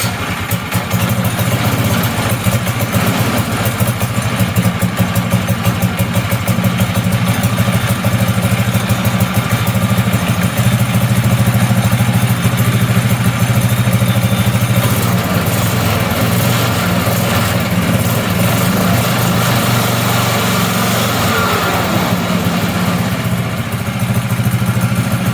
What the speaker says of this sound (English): Turn the engine on, put the choke up, cross your fingers.